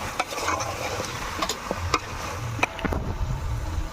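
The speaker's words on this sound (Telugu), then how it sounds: "ఇప్పుడు దీంట్లో మనం చికెన్ వేసుకుందాము దీన్ని కలుపుకుందామండి" Chicken is stirred into a sizzling pan for a country chicken curry, a steady close frying hiss broken by repeated sharp scrapes and taps of a spoon against the vessel.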